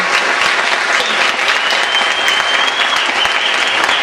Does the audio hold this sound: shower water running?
no